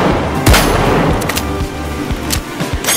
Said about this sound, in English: SH-1900 shotgun has increased damage per pellet from 10 to 15, but wider spread